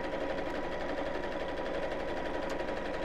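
A sewing machine runs a steady, continuous straight stitch down the side of an insulated lunch bag, an even mechanical whir holding at one level without pause throughout.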